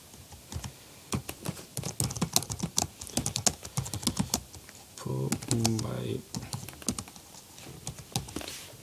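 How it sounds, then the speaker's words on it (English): Rapid clicking keystrokes on a computer keyboard while coding in the Eclipse editor, close and continuous, with a brief moment of speech in the middle. "just type that this is the info by log4j, control S and then control shift F"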